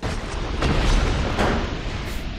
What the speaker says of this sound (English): You hear the fireworks outside?